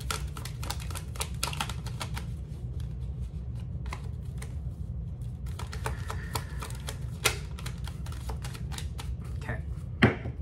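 Oracle cards being shuffled by hand, a fast run of crisp, papery riffles and flicks that comes in bursts over a low steady hum, fairly quiet and close with no talk.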